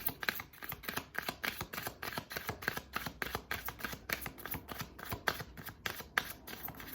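Tarot cards are shuffled in a steady, rapid run of crisp riffling snaps and soft slaps, close up and fairly loud, with no voices over them.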